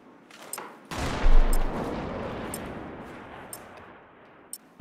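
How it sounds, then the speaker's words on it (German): Gunfire from the video game Battlefield 4, a loud sustained burst of rapid shots starting abruptly and rolling on with dense crackle, with a few sharp separate reports scattered before and after. "Hat einer geschossen?"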